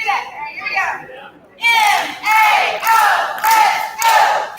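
Crowd at a fun run kick-off event in Montgomery, Alabama chanting in unison, four loud rhythmic bursts a second apart after a softer lead-in voice, with scattered clapping mixed into the group shouts.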